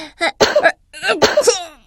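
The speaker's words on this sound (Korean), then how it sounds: "기침할 때는 조심해요" A young child coughs twice in quick succession, each a sharp, loud, close burst followed by a brief pause.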